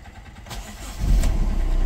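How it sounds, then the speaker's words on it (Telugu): A 2015 Honda City V diesel car, bonnet raised, cranks briefly and catches on the first try, settling into a loud, steady diesel idle. "బానెట్ లిఫ్ట్ చేసి ఒకసారి ఇంజన్ స్టార్ట్ చేస్తున్నాను"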